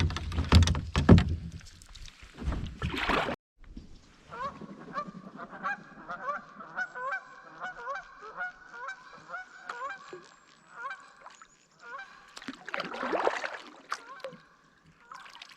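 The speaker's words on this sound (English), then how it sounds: "I guess the geese didn't like me coming in here." Several geese honk repeatedly in a rhythmic chorus, moderately close, with water splashing and kayak knocks at the start and end.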